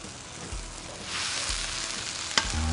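Pad mi Korat sauce bubbles and sizzles softly in a pan as tamarind juice is added, with a few light knocks and a sharp clink over the steady frying hiss.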